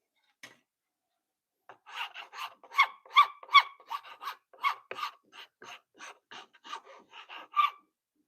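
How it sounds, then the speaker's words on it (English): A wooden hatchet handle being sanded by hand, about twenty short rasping strokes in an uneven rhythm, close and fairly quiet against a silent background, with no talking. "I should go ahead and sand this down since it's now, the handle's now ready."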